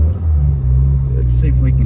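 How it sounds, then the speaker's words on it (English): A Nissan fitted with a Nismo intake rumbles with a deep, steady engine drone close by, the intake drawing air under it while a voice talks briefly over the top. "you can hear the intake sucking in the air"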